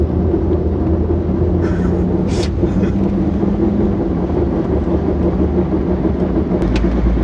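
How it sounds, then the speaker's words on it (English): A C5 Corvette rolls along with its wheel grinding against the brake caliper, a loud, steady drone of road and rubbing noise with a few brief higher scrapes, and no talking. "I'm just gonna put the wheel on and start driving until it stops making a grinding noise."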